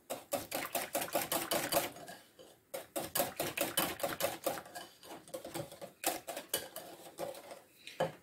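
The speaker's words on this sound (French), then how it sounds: "je vais venir bien encore mélanger pour enlever tous les grumeaux" Clafoutis batter being whisked in a bowl to break up lumps: quick, rhythmic clattering strokes come in bursts with a couple of brief pauses, close and fairly soft.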